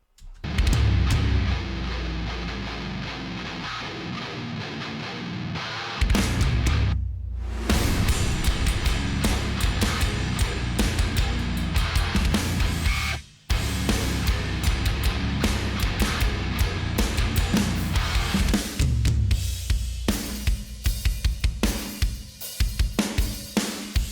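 Dense, loud metal mix with pounding sampled kick drums, cracking sampled snare and tom fills under distorted guitars, nearly continuous with two brief drops.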